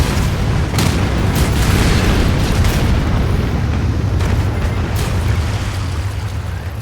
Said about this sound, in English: Missile barrage.